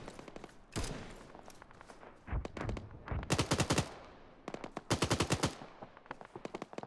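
Mounted machine gun in Arma 3 firing several sharp, rapid bursts with short pauses between them, loud and close, with no talking.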